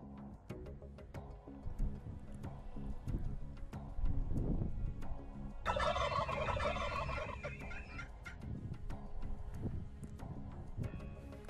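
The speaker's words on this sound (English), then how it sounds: "a pair of gobblers showed up and they were moving our direction" Wild turkey gobblers gobble loudly and repeatedly out in the open during a spring hunt in Nebraska's cedar canyons, with several strong calls in overlapping bursts, some close and some farther off.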